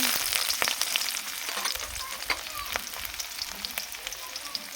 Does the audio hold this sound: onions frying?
yes